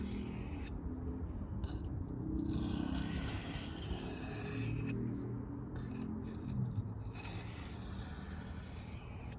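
A Kershaw Trace knife is being sharpened on a low-grit stone to remove the burr, giving a steady close rubbing rasp that briefly thins in short pauses between passes.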